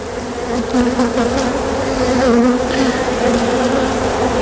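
Honeybees buzzing steadily and loudly close by while a hive is removed and opened, a dense continuous drone with no talking.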